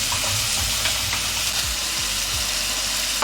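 Ginger-garlic paste and onion fry in a pan for a Bengali-style pomfret fish curry. The sizzle is loud and constant, with a few low thumps as the pan is handled.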